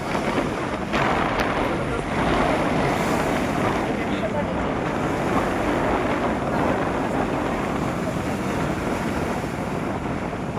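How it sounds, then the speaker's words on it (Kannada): A boat moves slowly through sea waves off Kanyakumari. Water washes constantly against the hull under steady, close wind rumble on the microphone. "ನಮ್ಮ ಬೋಟ್ ನೋಡಿ ಯಾವ ಥರ ಫ್ಲೋ ಆಗುತ್ತೆ, ವಾಟರ್ ಸೌಂಡ್ ಎಷ್ಟು ಕ್ಲೀನಾಗಿ ಕೇಳಿಸುತ್ತೆ"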